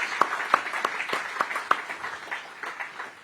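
Guests at a launch event give light applause: a small group claps in scattered, distinct sharp claps that gradually thin and fade over about three seconds.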